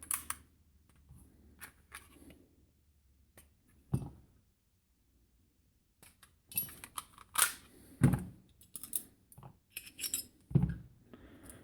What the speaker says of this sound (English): Let me take it apart. Let me get the barrel out again.